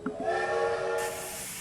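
A train in a video game lets out a hissing steam whistle, a sustained tonal blast with steam hiss lasting over a second, fairly quiet and with no talk.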